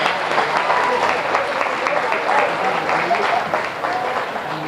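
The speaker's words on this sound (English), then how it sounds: "Once again, a good round of applause," Steady audience applause for kids in the ring at the NWSF junior swine show, a full crowd clapping throughout with a voice talking faintly beneath it.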